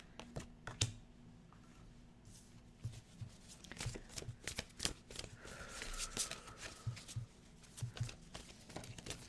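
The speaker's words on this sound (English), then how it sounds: "Let's get a few more cards, please." Tarot cards being shuffled at a table during a reading, a series of quick soft riffling and tapping bursts spread irregularly across a quiet background, with no talk.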